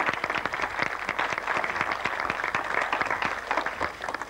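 Audience at a poetry festival in the ancient Roman theatre at Ostia Antica applauds poets, many hands clapping in a steady, fairly distant wash that fills the whole stretch.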